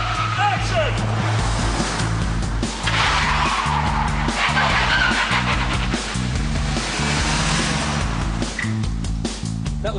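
A car driven through a stunt sequence for the TV police drama The Bill, filmed by cameras mounted on the car, with the engine droning and tyres skidding steadily throughout and voices heard over the noise.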